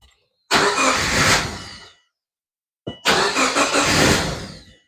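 A 2004-or-later Subaru Forester with a fuel leak cranks in two long, loud bursts of about a second and a half each, separated by a pause, and does not settle into an idle.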